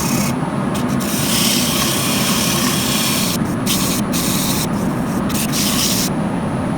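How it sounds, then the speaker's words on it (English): Steady, loud abrasive rubbing as a chamfer is sanded into the thread of a small wooden threaded trinket box, a continuous close rasp with slight rhythmic strokes throughout. "Sand a bit of a chamfer against the thread."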